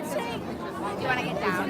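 People stream down a Chicago street toward a rally, their mingled voices forming a continuous murmur of crowd chatter with a few louder nearby voices rising over it.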